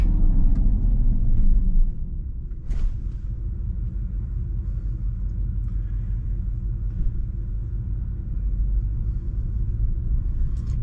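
A 2024 Dodge Charger Daytona R/T braking hard from 75 mph, a heavy low rumble of road and drivetrain that eases after the first couple of seconds into a steady, softer drone, with a brief sharp knock partway through.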